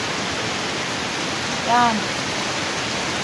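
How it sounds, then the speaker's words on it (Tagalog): Heavy rain pours down outside a house and soaks the room, a dense and steady hiss of water that carries on without pause. A voice speaks briefly partway through. "Grabe ng ulan."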